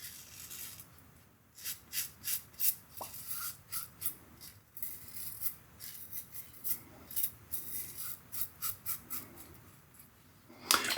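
A Rex Supply Co. Page safety razor scrapes across stubble in a close-up shave, a string of short crisp rasping strokes in quick rhythmic bursts with brief pauses between passes.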